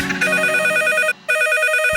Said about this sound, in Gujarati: ફોન આવ્યો